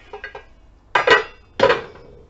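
Metal spoons clink against a cooking pot of pottage while it is served up, giving a few light taps followed by two louder scraping clanks, close and alone without talk.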